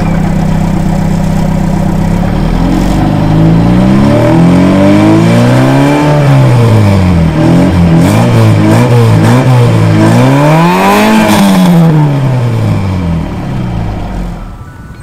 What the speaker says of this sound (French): je vous propose tout de suite de découvrir ensemble la sonorité de ce petit bloc italien à carburateur